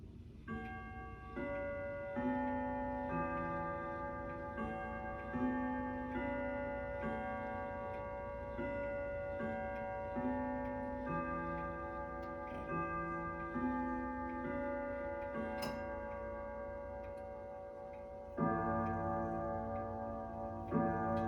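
Indoors, a King Arthur grandfather clock ticks at a slow, steady, even beat, its quiet ticks carrying over faint ringing tones, with no talk.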